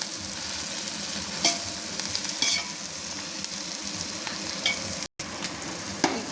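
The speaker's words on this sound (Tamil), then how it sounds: "கொஞ்சம் புதினா சேர்த்து நல்லா இது ஒரு 2 மினிட்ஸ் வதக்கிக்கோங்க" Mint leaves sauté in a pan for mutton dum biryani. The sizzle is loud and steady, with spatula scrapes and stirs and a brief cut to silence partway through.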